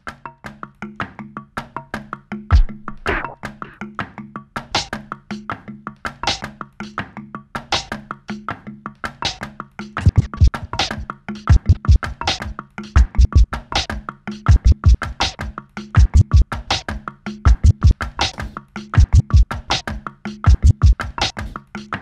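Steady drum beat with sharp snare hits landing on alternating beats over a kick, repeating in a regular rhythm, up close and alone.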